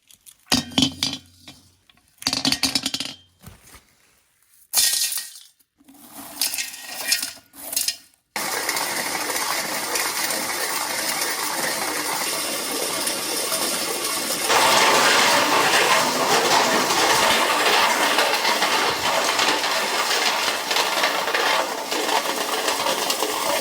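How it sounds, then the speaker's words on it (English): A homemade ball mill built from a propane tank spins with gold ore inside. After a few irregular clanks it settles into a continuous loud rattling and clinking tumble that grows louder partway through. "So I'm gonna attempt to get my propane tank ball mill working for this."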